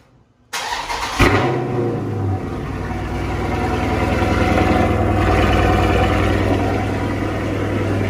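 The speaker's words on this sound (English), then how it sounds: "let me go and get this cold start for y'all real quick while the garage is open" Car engine cold-started inside an open garage, a brief crank catching into a loud, steady high idle that holds close and even to the end, with no voices.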